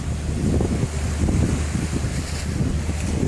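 Strong wind gusting over the open sea, heard from a boat near Manay, a loud continuous roar with heavy microphone buffeting and a low rumble beneath, no voices.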